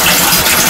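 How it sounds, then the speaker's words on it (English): Hot water gushing from a tap into a filling bathtub, a loud, steady splashing rush up close with no talking. "I'm gonna go ahead and finish letting this water rise up."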